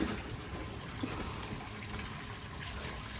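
Water trickles in a small artificial river by a gazebo at a farm store, a steady, soft broadband wash of flowing water close by, with no voices.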